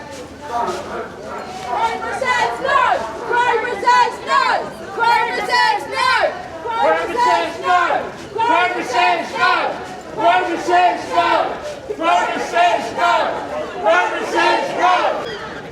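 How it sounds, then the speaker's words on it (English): A large protest march crowd moves through a sunny town centre, with constant loud chatter and rhythmic chanting rising and falling in waves, close by and filling the whole scene. "the crowd's now starting to move through this main town centre now"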